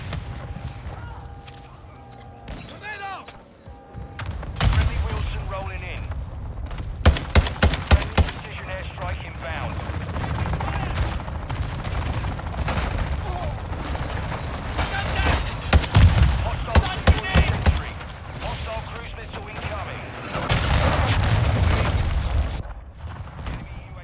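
Mortar strike explosions in Call of Duty Modern Warfare 2 (2022) sound as loud, sharp booming bursts in clusters, around five, seven to eight and fifteen to seventeen seconds, over constant in-game battle noise and gunfire, with some voices.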